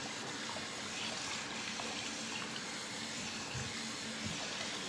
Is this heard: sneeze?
no